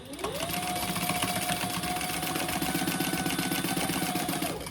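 A sewing machine basting two fabric pieces together for a caddy, its motor running in one steady close whirring stitch run with a rising pitch at the start and a fall at the end.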